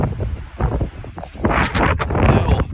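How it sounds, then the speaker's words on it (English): Nor'easter wind gusts with spitting rain roar over the microphone in blustery bursts among trees, with broadband rushing noise swelling and easing, and a voice talking at moments underneath. "it's still spitting rain and windy"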